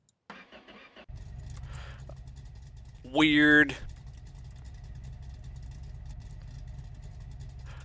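A car engine in the My Garage video game cranks for about a second, catches and settles into a steady low idle, with a sharp tonal burst partway through and someone briefly speaking.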